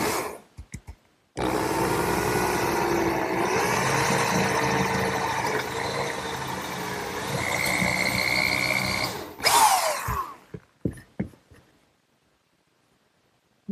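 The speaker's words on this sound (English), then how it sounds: "now it's time to drill a hole for the oak dowel" A 3/8 brad point bit driven by a power drill bores a hole for an oak dowel in a woodworking shop, running loud and steady for about eight seconds and slowing slightly in pitch partway through before it stops, followed by a few clatters.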